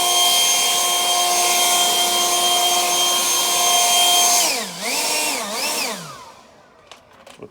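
An Echo 56V battery power tool runs steady and loud at full turbo speed, a constant high whine with strong harmonics, then winds down in pitch twice before fading out near the end.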